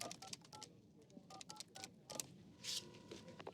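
A telephone number is dialed on a keypad, producing a quick series of distinct touch-tone beeps, fairly faint with background noise between them.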